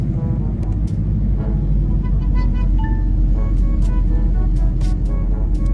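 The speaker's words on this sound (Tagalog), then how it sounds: "Grabe yung traffic sa Congressional guys." Steady low engine rumble of idling and crawling vehicles stuck in heavy traffic on Congressional Avenue, heard from inside a pickup, continuous and close with occasional faint higher tones.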